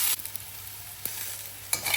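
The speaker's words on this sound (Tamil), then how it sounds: "நல்லா வதக்கிட்டு காட்டுறேன்." Ginger, garlic and capsicum sauté in a hot pan for a paneer gravy, a soft continuous sizzle broken by a few sharp scrapes and taps of a spatula stirring.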